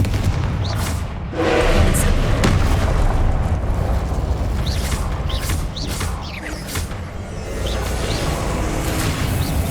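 Explosive Confringo spell blasts in Hogwarts Legacy, a series of booming bursts and pops over a continuous rumbling game soundscape, loud and close, with no talk.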